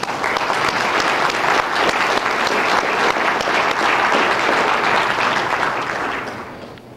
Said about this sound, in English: she deserves your applause